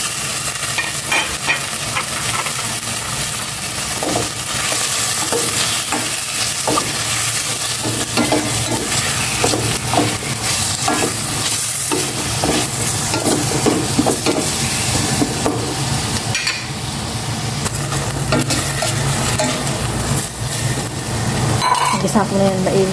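Pork sautés in a pan for a vegetable-and-pork dish, a continuous loud sizzle and hiss broken by frequent scraping and clattering of stirring, close up.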